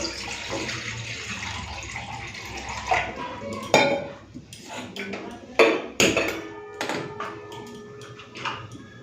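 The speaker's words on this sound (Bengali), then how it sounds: "তো এখন কড়াইতে দিয়ে দিচ্ছি জল।" Water poured into a wok for boiling green bananas in a home kitchen, a soft splashing stream followed by a few sharp clanks of pots and utensils, with quiet room noise around it.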